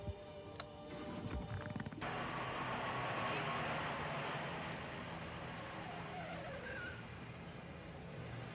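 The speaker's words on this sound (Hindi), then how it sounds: "चलिए आप गाड़ी शुरू कीजिए" A car engine turns over and settles into a steady, close running rumble after a brief stretch of near silence and a few clicks; tire and motor noise stays loud and continuous, with no talk.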